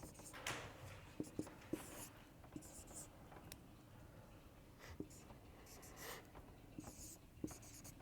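Writing on a board during a lecture: quiet scratchy strokes and taps come in short irregular bursts, with soft speech around them.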